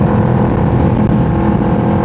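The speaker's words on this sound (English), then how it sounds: "I got a SE Project exhaust. I got the pops and bangs and everything." A tuned 2025 Kawasaki Ninja 650 with an SE Project exhaust revs with a loud, close, rumbling throaty drone that holds steady and rough with no talk over it.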